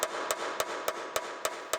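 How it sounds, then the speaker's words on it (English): Metal body panel of a 2012 Acura TL being hammered to knock out kinks and crowns, seven sharp, evenly spaced blows over a steady background hiss, close and clear. "So now we're going to hammer out the kinks, the crowns"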